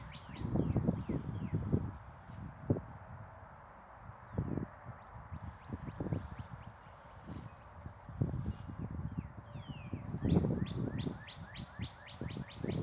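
Birds chirp and tweet steadily in the background, several calls overlapping, while footsteps crunch and rustle nearby.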